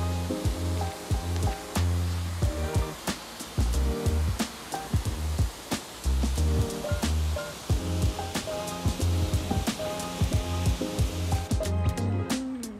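A pressure-washer rinse spraying a car during a two-bucket wash, a loud continuous hiss of water with sharp clicking bursts and uneven surges as the stream moves across the bodywork.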